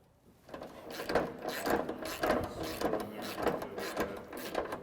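A hand ratchet tightens the 4-point harness bolts on a Polaris RZR RS1, giving a steady, repeating, close clicking rhythm that runs continuously with no talking.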